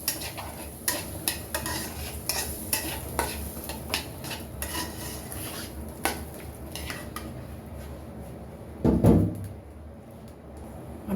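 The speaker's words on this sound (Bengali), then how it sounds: "এখন আমি নেড়ে চেড়ে মিক্স করে নেব।" Cubed potatoes stirred in a frying pan with spice paste, a spoon scraping and clinking against the metal in a steady irregular rhythm over a soft sizzle, with one louder scrape near the end.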